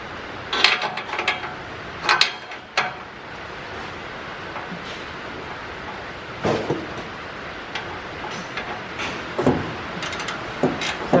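A ratchet works loose rusted O2 sensors soaked in PB Blaster, giving irregular clicking and scraping bursts close by over a low background hiss, with no talking.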